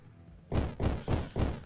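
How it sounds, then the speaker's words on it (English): Four heavy, evenly spaced thuds from a shovel striking earth in the video game Wax Heads, each a loud, broad impact with a short decay, heard alone without talk. "The shovel struck the earth with a thud"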